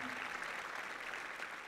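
Crowd applauding at a music event, a dense steady wash of clapping throughout, fairly soft and distant with no breaks.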